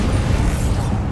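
In Hogwarts Legacy, a Bombarda spell blast erupts as a loud, heavy, continuous rumbling roar with deep low-end weight and grinding debris, sustained throughout.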